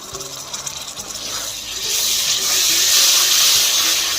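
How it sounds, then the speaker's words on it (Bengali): Water poured into a pan of Bengali mutton kosha masala, a soft start that swells after a second or two into a loud, steady gushing pour, close up with no talk. "এর মধ্যে আমি অল্প একটু জল দিয়ে দিচ্ছি যাতে মশলাটা ভালোভাবে কষানো হয়"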